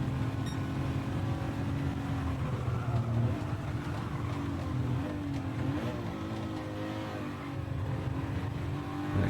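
A racing car laps the Alsace circuit in Gran Turismo 7 during a one-hour endurance race. Its engine drones loudly and continuously, the pitch rising and falling as it shifts gears and lifts off, and no one speaks.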